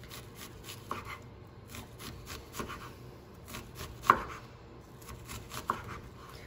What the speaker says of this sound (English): cut it through, and that is beautiful diced onion ready to be used as a starter for a soup or a sauce